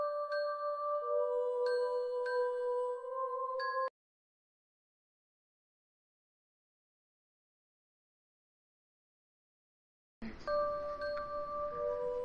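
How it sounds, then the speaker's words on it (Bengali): A doorbell chimes as a sound effect in an audio story. Clear ringing tones play, then a long silence, then the chime sounds again, loud and alone. "হঠাৎই আবির সাহেবের বাড়ির কলিং বেলটা বেজে উঠল"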